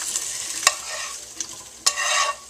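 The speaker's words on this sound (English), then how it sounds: "Time to put the veggies in the crock pot." Vegetables for beef stew are tipped into a crock pot, giving a few sharp clattering knocks and rustling spills close by over a short stretch.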